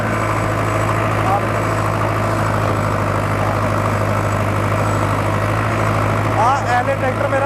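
A Ford tractor engine running in first gear, a loud, steady low rumble with constant harmonic drone, heard close up and unbroken throughout.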